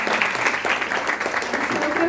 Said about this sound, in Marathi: त्यांच्यासाठी पण एकदा जोरदार टाळ्या वाजवल्या